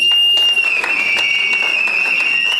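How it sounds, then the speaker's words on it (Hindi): An audience at a business recognition event claps, sustained applause under a loud, steady electronic whine from the sound system. "इसके लिए एक ताली हो जाए।"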